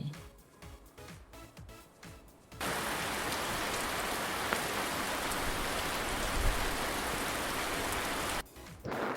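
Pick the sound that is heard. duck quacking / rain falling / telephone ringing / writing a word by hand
rain falling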